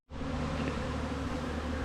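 A dense, continuous buzz of many honeybees flying from a beekeeper's colony in good weather, a steady hum that starts abruptly and holds loud and close with no voices.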